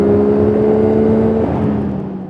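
A CFMOTO 675NK three-cylinder motorcycle engine runs steadily close by, its triple note holding a sustained tone with a steady hum, then easing slightly toward the end. No voices.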